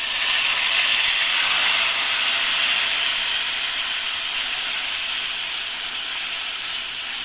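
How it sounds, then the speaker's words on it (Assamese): Ground onion paste hits hot mustard oil for a fish curry and sizzles in a loud, steady hiss that fades only slightly over several seconds, close up with no talk. "তেলখিনি গৰম হ'ল। এতিয়া মই ইয়াত পিহি লোৱা পিঁয়াজখিনি দি লৈছোঁ।"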